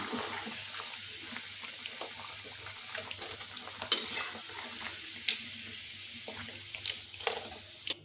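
Paneer pieces fry lightly in oil in a pan for a vegetarian navratna curry, giving a steady close sizzle with a few sharp utensil clicks and scrapes, no voices.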